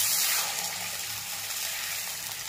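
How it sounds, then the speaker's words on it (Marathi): Half a bowl of warm milk pours into a spoonful of ghee in a kadhai, a loud gushing hiss at first that settles into a steady bubbling sizzle, close by with no talk. "दूध थोडं गरम झालं की त्यामध्ये आपल्याला अर्धी वाटी दूध टाकून घ्यायचं आहे"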